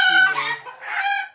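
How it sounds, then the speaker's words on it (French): A blue bantam Brabanter rooster with a small beard gives a single loud crow, close by, rising and then trailing off over about a second and a half. "c'est des coqs qui chantent beaucoup"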